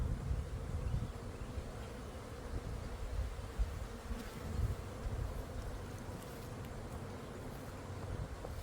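A swarm of honey bees buzzes in the air among tall trees on a windy day. Many bees make a dense, continuous droning hum that rises and falls slightly, with wind gusts underneath.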